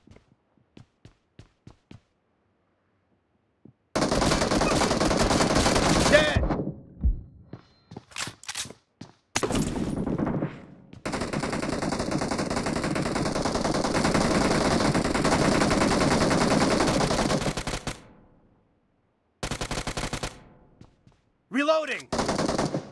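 Automatic gunfire in the mobile game BGMI (PUBG Mobile) crackles in long sustained bursts and shorter volleys separated by quiet gaps, loud and close, with a brief whooshing effect near the end.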